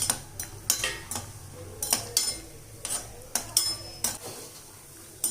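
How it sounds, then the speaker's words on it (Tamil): Cashews stirred in hot ghee in a pan, with about a dozen sharp metal clinks and scrapes of a spoon against the pan in an irregular rhythm over a faint background hiss. "எடுத்து வச்சுருக்க முந்திரி பருப்பு சேர்த்து வறுத்துக்கலாம்."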